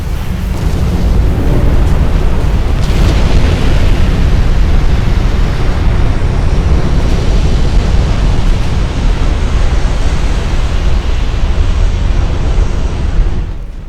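Naval gunfire and torpedo explosions in Ultimate Admiral Dreadnoughts, a light cruiser battle in a 1910 British campaign, merge into a loud, continuous, roaring wash of booms with no clear gaps and no speech.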